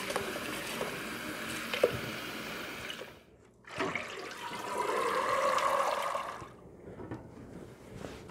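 Picked grapes are rinsed under running water from a tap, a steady splashing rush that breaks off briefly and then resumes more strongly before easing into a quieter trickle.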